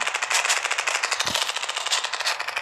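Rapid machine-gun bursts from a video game rattle on continuously, loud and close, with an evenly paced stream of shots and a single low thump partway through.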